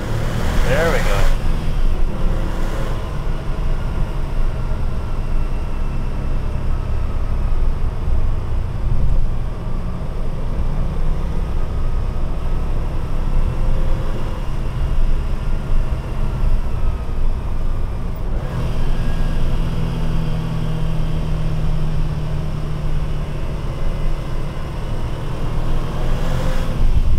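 A 1996 Porsche 911 Turbo pulls hard from inside the cabin, and its engine drone and road noise stay loud and constant while someone talks over it throughout.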